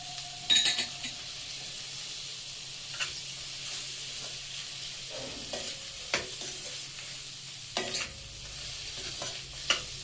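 A broad bean curry with coriander simmering in oil, a soft steady sizzle under scattered clinks and scrapes of a spoon against the pan, fairly quiet and close, with no voices.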